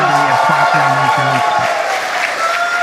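A crowd claps and cheers after the Polaris Dawn crew's SpaceX capsule splashes down in the ocean, a dense, loud wash of applause and shouts with a voice speaking briefly near the start.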